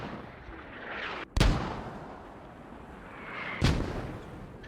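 Two mortar rounds fire in Squad, each a sharp, heavy boom followed by a rumbling decay, spaced a couple of seconds apart over a quiet ambient background, with no talking.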